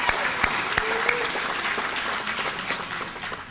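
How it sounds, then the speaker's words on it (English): A dinner audience applauds performers, a steady patter of many hands with a few sharp nearby claps, easing slightly toward the end. "Give them all a round of applause."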